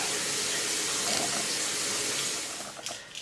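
Tap water runs steadily while a face is rinsed after washing with a low-pH gel cleanser, a close, continuous splashing rush that tapers off and turns uneven near the end.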